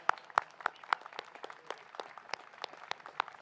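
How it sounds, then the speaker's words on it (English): Scattered applause from a small gathering honoring hospital staff at a hospital topping-off ceremony, a few sharp claps standing out over a thin, fairly quiet patter lasting a few seconds. "giving a round of applause to all of those who do that"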